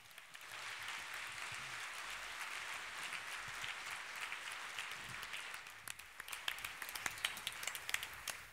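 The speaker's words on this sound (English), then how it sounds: "Let's give him a big round of applause." A conference crowd at the Total Chaos 2019 opening keynote in Sofia, Bulgaria, applauds in a steady, distant wash of clapping that turns sparser and more distinct toward the end.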